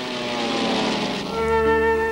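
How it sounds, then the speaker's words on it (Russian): Bomber aircraft drone overhead in the night sky over Moscow during wartime, a continuous rumbling engine hum with steady tonal bands that grows slightly louder toward the end. "На 46-ю ночь войны в московском небе появились бомбардировщики."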